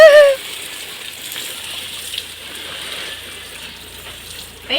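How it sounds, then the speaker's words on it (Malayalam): Water pours down steadily in a broad hissing spray to make artificial rain, with a sharper splash at the start and another near the end, and no voices. "കൃത്രിമ മഴ നമ്മള് പെയ്യിപ്പിക്കും കേട്ടാ."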